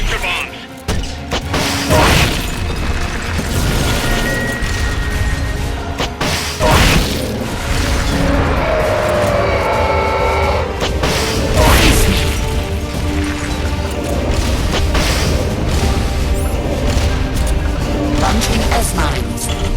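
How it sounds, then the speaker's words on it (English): Heavy, continuous video game combat noise from Metal Gear Solid Peace Walker with cluster bomb blasts landing, dense rumbling booms and crashes filling the whole stretch, loud and close, with game voices over it. "Launching S-mines. Cluster bombs!"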